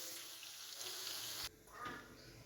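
Water is poured into a pan of potatoes and bell peppers for an aloo shimla mirch dish, a steady hissing rush that cuts off abruptly partway through, followed by faint sizzling.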